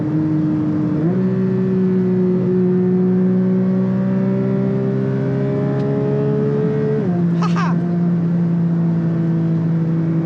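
A Porsche 911 GT3 Touring engine drives in a tunnel, a loud, sustained, steady drone that shifts pitch at a gear change, climbs gradually, then drops again. A brief sharp noise breaks through midway; no voices.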